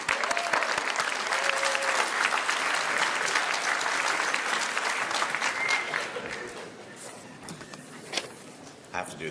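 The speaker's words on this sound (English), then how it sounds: "Please give Mr. Deek a wonderful round of applause." Sustained audience applause at a 2018 Fremont College graduation ceremony, a dense wash of clapping that stays loud for about six seconds, then thins out and fades into scattered claps and room noise.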